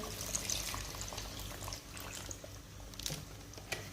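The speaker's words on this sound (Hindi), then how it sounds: "शोरबे के लिए पानी शामिल कर देंगे।" Water pours into a pot of Punjabi aloo gosht (mutton and potato curry) with a soft splashing gurgle, fairly quiet and close, with light clinks and sizzling underneath.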